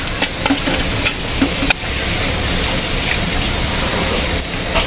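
Spiced teasel gourd frying with coriander and turmeric is stirred in a pan, producing a loud, steady sizzle broken by repeated scrapes and one sharp knock.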